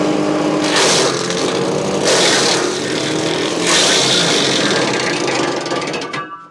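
A Hansa wood chipper shreds Leylandii branches, loud and close, with harsh grinding and crunching surges arriving in several bursts over a steady mechanical drone.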